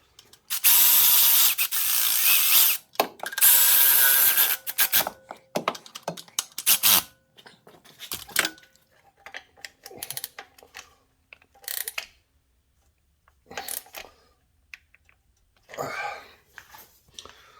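Ratchet tightening bolts on the axle support of a 2011 Ford Transit Connect van, rapid clicking bursts close up, loud and dense early, then shorter sporadic ratcheting and tool clanks.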